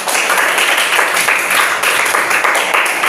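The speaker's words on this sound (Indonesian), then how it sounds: "tepuk tangan untuk semuanya" Dense audience applause in a classroom or training session, loud and continuous for a few seconds with no break.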